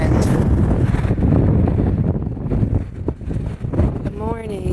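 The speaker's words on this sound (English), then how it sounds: "But I'm sure you guys can hear the wind." Steady gusting wind on a New Jersey beach buffets the microphone in a low rumble, with a short burst of voice and a faint chirp near the end.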